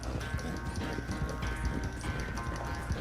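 Horse hooves gallop at a fast, steady clip-clop in Red Dead Redemption 2 during a race, with the pounding footfalls running continuously under a rushing background.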